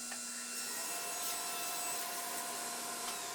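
A power saw rips glued-up wood panels to final width for a tambour door cabinet, giving a steady, loud, continuous whine with bright broadband cutting noise that runs throughout without pause.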